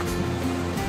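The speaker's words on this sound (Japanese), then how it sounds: "激流ですね。" Rushing river rapids near Keyhole Hot Springs in Whistler roar in a steady, dense wash of water noise, loud and close, with no break in the flow.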